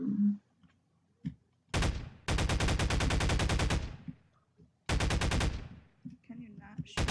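Gunfire in a sandbox video game: two long, loud bursts of rapid automatic shots, each lasting a couple of seconds, separated by short quiet gaps with brief game noises.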